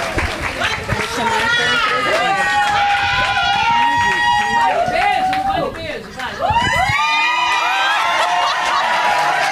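A lively audience at a Brazilian public-policy seminar cheers and whoops, with many high excited voices over steady crowd noise rather than clear clapping, loud and continuous throughout.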